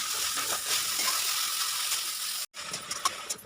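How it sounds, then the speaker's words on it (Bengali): Drumstick (moringa) leaves frying in oil in a pan, a steady close sizzle with small crackles that drops out briefly near the end, then resumes with a few sharper pops. "সজনার পাতা ভাজা হয়ে গেছে"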